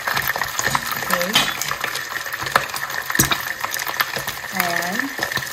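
Chicken fries in a pan with a steady crackling sizzle, broken by occasional scraping and stirring clicks, while a person speaks over it.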